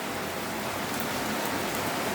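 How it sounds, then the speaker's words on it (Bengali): Steady rain patters on a window grill on a hot-weather morning, a dense, even wash of drops close by with no voices, continuous for the whole short stretch. "দেখেন কি বৃষ্টি, গ্রিলি বৃষ্টি নিয়ে মানে বাঁকা বাঁকা বৃষ্টি হচ্ছে"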